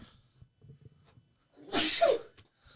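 A single loud sneeze bursts out after a few seconds of soft, low background sounds, close and abrupt.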